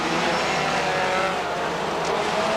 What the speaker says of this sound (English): Ian King in car number 804, round to complete another one.